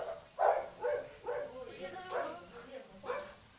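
A muzzled guard dog barks in regular, forceful bursts during protection training at a dog-training school, with people talking underneath at moderate distance.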